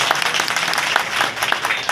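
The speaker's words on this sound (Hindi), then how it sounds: "एक बार आप अपने लिए भी ताली बजा सकते हैं।" An audience at a traffic awareness event claps together, a brisk, loud burst of many hands slapping close by.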